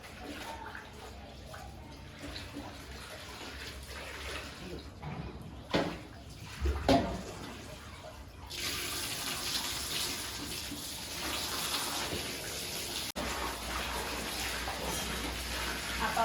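Washed woollen sweaters are squeezed gently by hand, giving soft, close splashing and trickling water that swells into a steadier wet gush partway through.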